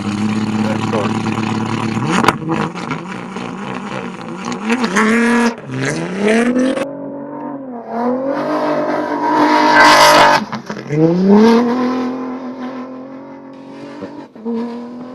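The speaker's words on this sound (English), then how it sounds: "every 2 minutes, we're gonna have a car starting now" A rally car engine revs hard and loud at a stage start of the Abu Dhabi Desert Challenge, rising and falling in pitch, then accelerates away with a roaring surge, close by.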